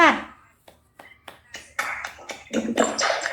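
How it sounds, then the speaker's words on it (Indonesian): A classroom group claps for group 4, with scattered hand claps building into a brief patter of applause after a voice speaks. "Kasih aplaus untuk kelompok 4"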